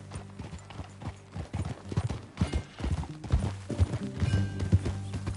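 Horse hooves clip-clop on the ground in a PS4 video game, a steady trotting rhythm with a possible whinny, loud and close, with no clear talk.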